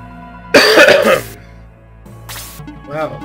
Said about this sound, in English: It's the cough that never ends